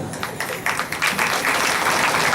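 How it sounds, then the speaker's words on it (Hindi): An audience at a stage event breaks into applause, a close wash of clapping that builds from scattered claps into a fuller, steady round. "आप सबको भी तालियों के लिए धन्यवाद।"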